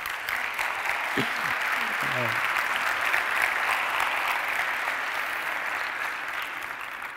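Audience at a tech conference applauding after a talk on AI, a steady wash of clapping that holds throughout, with a brief voice audible near the start.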